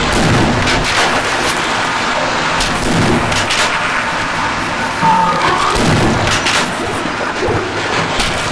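Repeated gunshots fired at a bull squid in Half-Life: Blue Shift, loud sharp bangs in quick succession over a busy game soundscape.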